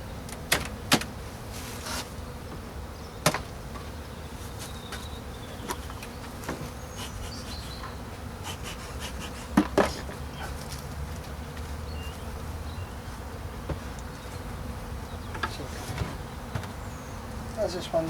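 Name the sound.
honey bees buzzing during hive inspection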